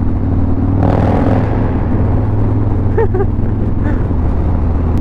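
A steady, loud engine drone from a Harley-Davidson Low Rider S motorcycle close by, rising briefly in pitch as it revs, with a few faint voice-like sounds mixed in.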